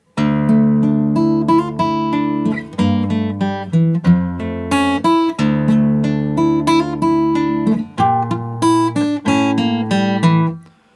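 An electric guitar in drop D tuning plays a clear riff of ringing, plucked notes, alone and close, with repeated low open-string notes under a melodic line.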